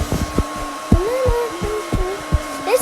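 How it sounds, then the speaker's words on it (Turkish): Hair dryer running loud and close, a steady whirring blow with a faint whine, broken by several low thumps and knocks from handling, no talk over it. "Şimdi konuşmayın çünkü fön açık."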